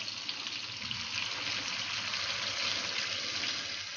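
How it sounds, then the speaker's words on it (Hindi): Mutton stock (yakhni) poured into a cooking pot for Kabuli pulao, a steady continuous watery rush with faint sizzle underneath, fairly close and even in level throughout, with no talking. "मटन की यखनी ऐड करते हैं।"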